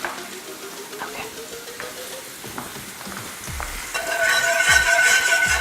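Oil and butter sizzle in a pan at the start of a pepper steak. A faint crackle with scattered clicks and a rising tone grows into a louder, brighter, steady sizzle near the end.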